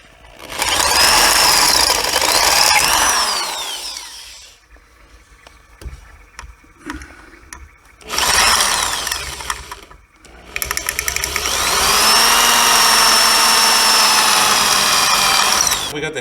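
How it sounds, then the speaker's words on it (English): Drill bit biting through rivet heads on the metal plate of a 2005 Ski-Doo Summit snowmobile, loud whining bursts of drilling separated by a quiet pause, close and harsh. "so I have to drill it very carefully."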